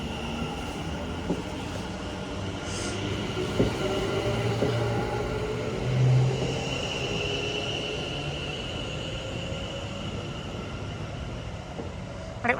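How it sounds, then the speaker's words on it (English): A West Midlands Railway passenger train pulling out of Walsall station toward Birmingham New Street, its loud rumble and rail noise filling the platform, with whining motors, occasional wheel squeals and clicks as the carriages roll past. "Departing out now is the 1550 West Midlands Railway service from Walsall to Birmingham New Street."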